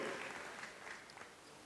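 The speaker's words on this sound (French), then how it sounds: "Encore un tonnerre d'applaudissements pour Monsieur Pierre-Michael Hugues." Crowd applause at a handiboxing exhibition as a boxer enters the ring, a fairly faint, diffuse clapping wash that tapers off over under two seconds.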